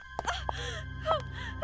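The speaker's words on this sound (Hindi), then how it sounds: "लड़की के रोने की आवाज।" A girl crying softly, with short gasping sobs and whimpers in uneven bursts, close and fairly quiet, over a low steady hum.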